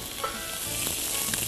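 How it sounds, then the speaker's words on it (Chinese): Shrimp pan-fry in a little oil, a steady close sizzle and crackle with faint stirring scrapes and no voices. "一点点油就足够让你煎了，好，那我们就是把这个虾子。"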